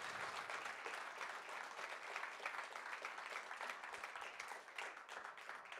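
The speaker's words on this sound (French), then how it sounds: "vos applaudissements." Sustained applause from an audience at a talk event, steady dense clapping filling the room throughout with no voices over it.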